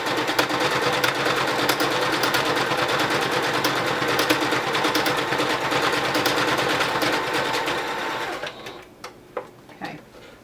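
A sewing machine stitches fabric for a mask, a fast, loud continuous whir of needle strokes that stops near the end, followed by a few light clicks.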